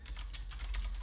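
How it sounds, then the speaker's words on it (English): Fingers type on a computer keyboard while entering a username and password, a quick run of light clicking keystrokes close up with no voices. "we're going to type in a username and type in your password"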